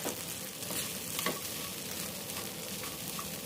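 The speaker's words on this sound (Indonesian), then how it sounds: "Kita tumis bumbunya hingga harum" Spice paste sautéing in a pan for a dish of taro stems cooked with shrimp paste, a dense, close, continuous sizzle with faint stirring scrapes and no voices.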